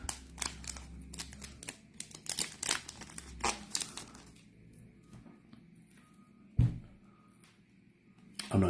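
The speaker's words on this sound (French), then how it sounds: "c'est pour ça que ça me faisait aussi plaisir d'ouvrir ces paquets" Dragon Ball Super trading card packets from a French edition are torn open, their wrappers crinkling and rustling in close, irregular bursts, dense at first and then thinning to a few sharp handling sounds.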